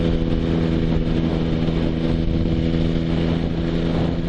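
Steady motorcycle engine drone in top gear at about 60 mph and 3,000 rpm, a strong low hum running evenly at constant speed throughout, close and loud with no acceleration or gear changes.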